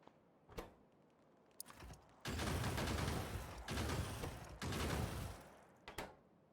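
Gun turrets in the video game Factorio fire bullets at enemies, producing a dense, sustained rattle of rapid gunfire in several long bursts with short gaps between them. The volleys are loud, close and heard alone, with no speech.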